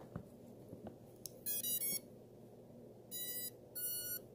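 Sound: drone ESC motor beeps

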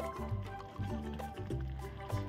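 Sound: food boiling in a pot

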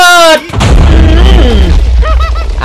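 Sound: explosion in Minecraft video game

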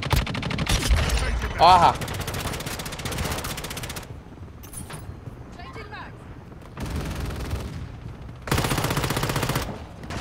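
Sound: gunfire in video game Warzone Mobile

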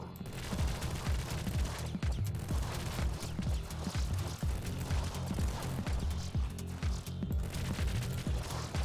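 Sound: double minigun fire in video game Nuclear Throne

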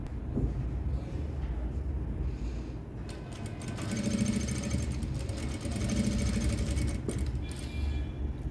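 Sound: sewing machine stitching blouse piping

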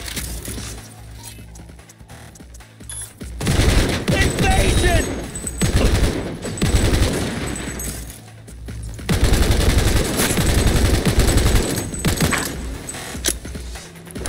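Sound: gunfire in the video game Cyberpunk 2077

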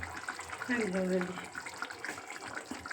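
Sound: water being poured while cooking fish

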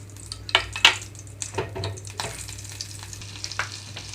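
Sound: oil and butter heating in a pan

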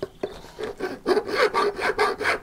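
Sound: filing off a metal flange

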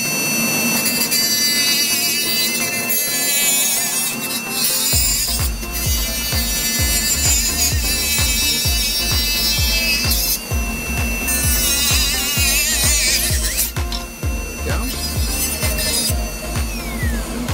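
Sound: diamond disc on lab mandrel cutting a dental retractor

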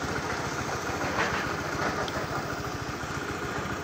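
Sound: Honda Air Blade scooter engine running weak

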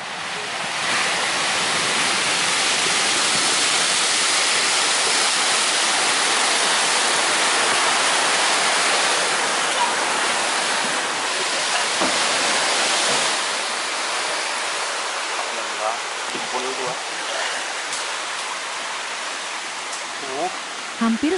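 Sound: bono tidal bore wave crashing

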